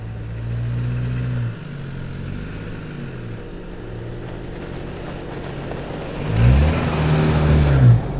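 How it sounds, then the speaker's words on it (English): A 2025 Toyota 4Runner TRD Pro hybrid drives along with a steady low engine and road drone that eases off, then rises as it accelerates, heard up close from inside the cabin. "Let's go for a drive."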